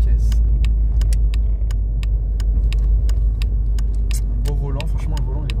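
A turbo diesel car engine hums steadily under way, a low continuous rumble filling the cabin with faint clicks above it, while people talk over it.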